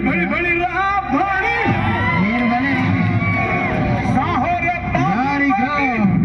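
A lively crowd cheers and shouts, with many voices overlapping in a loud, continuous roar of excitement.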